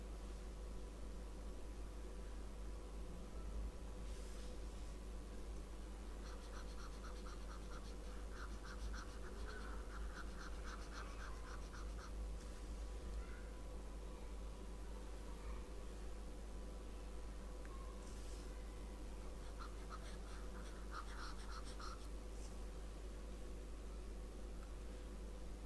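A drawing of a strength-of-materials diagram being erased from a board, heard as two faint spells of rhythmic back-and-forth rubbing strokes over a constant low hum and background hiss, with no talking.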